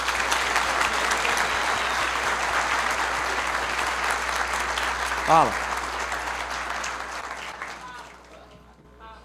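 An audience claps steadily at a business talk, dense sustained applause filling the room for several seconds before thinning out, with a brief spoken word partway through.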